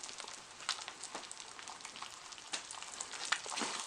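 An egg with its yolk broken and black pepper on top fries in a pan for a ham steak breakfast sandwich, giving a close, steady crackling sizzle with sharp pops scattered throughout.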